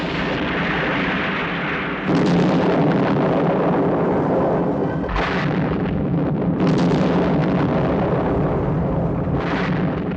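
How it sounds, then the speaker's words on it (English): A defense system tower explodes in a 1967 Captain Scarlet puppet series: loud, sustained rumbling blasts with repeated bursts, filling the whole stretch with dense, booming destruction noise and no talk. "They've hit the defense system tower. Total destruct."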